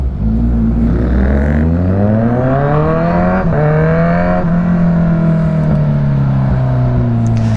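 A QJ Motor 650 motorcycle at a motor show holds a loud, sustained engine note that climbs gradually in pitch, dips briefly mid-way, then settles into a steady high drone, close and without speech.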